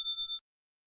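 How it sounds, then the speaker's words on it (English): A new bell gives a single bright, clean ring that holds briefly and then cuts off sharply into silence, heard alone with no voices. "I got a new bell over here."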